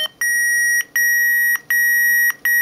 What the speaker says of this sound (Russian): Во-первых, есть пищалки.